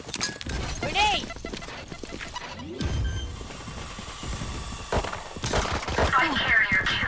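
Video game combat with a grenade blast and rapid gunfire, sharp crashing bursts and shattering impacts layered with game voice callouts, loud and busy throughout.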